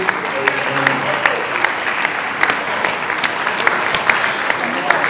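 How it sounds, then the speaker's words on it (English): Shareholders at a Lafarge WAPCO company meeting applaud the management with sustained, even clapping from a large room, a few louder claps popping out of the steady crowd sound. "I want to ask the management to be upstanding for recognition and applause by the shareholders"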